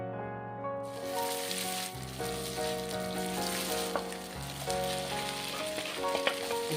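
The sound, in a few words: soya chunks frying in a pan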